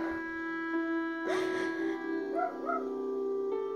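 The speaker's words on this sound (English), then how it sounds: "Sorry about my dog, guys." A pet dog gives a short burst of barking and yips, fairly close and loud over a steady background hum, followed by a few softer whimpering yelps.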